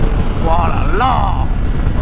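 A Triumph Street Triple 765 RS motorcycle engine revs up to 9000 rpm, its whine rising and then falling back over a steady engine rumble while an excited voice talks nearby.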